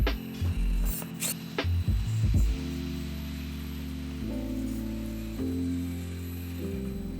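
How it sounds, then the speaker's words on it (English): On an FMS FCX18 LC80 RC crawler, the steering trim is turned up by hand. Quick bursts of small, close mechanical clicks come first, then a steady electronic whine hums on alone. "This is just me turning up the steering trim"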